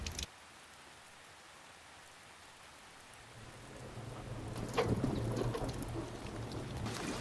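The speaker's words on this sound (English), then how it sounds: "Rain's getting heavier." Steady rain falls throughout, a dense wash that swells louder and heavier in the second half, with a low rumble underneath.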